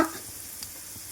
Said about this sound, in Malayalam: ഇനി നമുക്കതിലേക്ക് വെളുത്തുള്ളി ഇട്ട് കൊടുക്കാം പച്ചമുളക് ഉലുവ